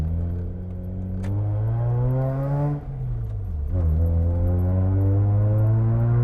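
A 2008 Mazda RX-8 40th Anniversary rotary engine revs loudly on a mountain road, its exhaust note climbing in a long smooth rise, dipping briefly, then rising again in a second sustained, close and dominant rev.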